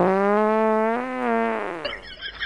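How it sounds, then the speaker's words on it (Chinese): A fart sound effect played as a prank, a single long, buzzy, pitch-wavering blast that is loud and close and sounds on its own, with no talk over it, fading into a faint rustle at the end. "用放屁音效整蛊一下老公"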